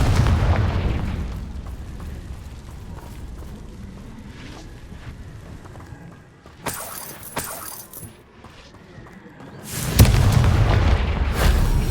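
A Confringo fire spell explodes in Hogwarts Legacy, with crackling bursts and a loud booming blast near the end over low game rumble.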